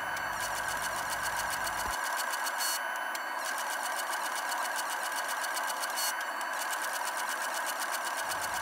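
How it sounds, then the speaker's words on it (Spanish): A 288-layer Damascus steel billet for a knife is drawn out under a machine that keeps up a rapid, continuous mechanical chatter, steady and unbroken with no talk. "empezamos a estirar nuestra palanquilla de acero damasco de"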